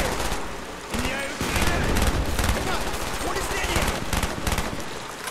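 Rapid automatic gunfire from Call of Duty: Black Ops on PC, loud and close, with bursts of shots running nearly nonstop over a dense battle background and sharper volleys around the middle.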